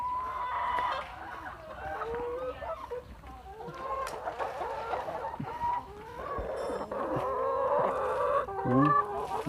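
Free-range laying hens being fed raw rice cluck and squawk continuously at close range, with overlapping calls and a louder burst near the end.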